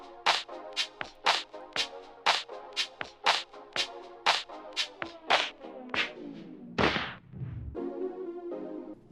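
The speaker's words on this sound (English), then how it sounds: "I did this little VHS intro that sounds like this" A VHS-style intro effect at the start of a hip-hop beat: a quick series of sharp clicking, snapping bursts with a tape-like hum underneath, then a swooping drop into a steady, faint hiss.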